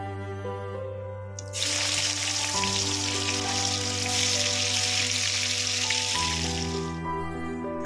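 Paneer cubes frying in oil in a home kitchen for matar paneer, a loud, steady crackling sizzle that starts abruptly and runs for several seconds over a low background hum before cutting off.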